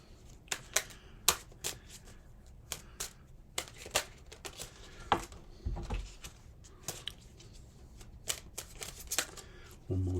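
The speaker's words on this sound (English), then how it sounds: "One more shuffle." A Tarot de Marseille deck is being shuffled by hand, giving a run of quiet, irregular card riffles, slaps and clicks close by, with faint background hiss.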